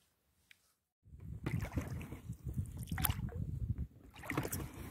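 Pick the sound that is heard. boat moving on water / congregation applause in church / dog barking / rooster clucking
boat moving on water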